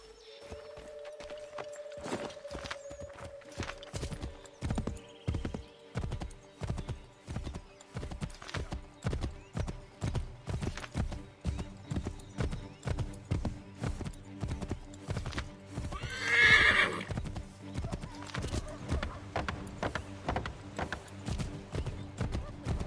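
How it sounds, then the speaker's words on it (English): Rhythmic clip-clop of a horse's hooves galloping steadily in Assassin's Creed III, with a loud whinny partway through; a game soundscape with faint background tones. "Take my horse! Bring him here!"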